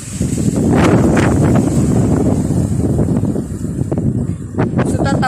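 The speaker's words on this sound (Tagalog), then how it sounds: "Ayan, so, mahangin." Wind gusts across the microphone at a waterfront by Tai Po market, a loud steady rushing roar with buffeting bursts, people faintly audible underneath.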